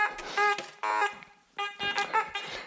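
Loud electronic beeping in harsh bursts, three or four separated by short gaps, close and shrill.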